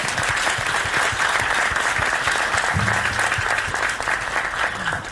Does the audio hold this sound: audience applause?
yes